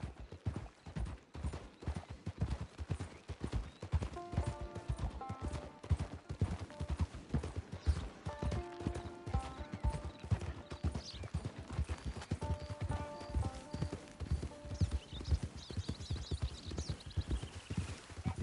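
Hooves of a horse in Red Dead Redemption 2 clop in a steady rhythmic gait throughout, with game music and ambient tones layered over them and occasional distant gunfire-like pops.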